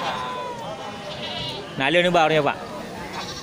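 A Peranakan Etawa goat at a livestock sale lets out one loud, wavering bleat close by, lasting under a second, amid background chatter, while someone speaks before and after.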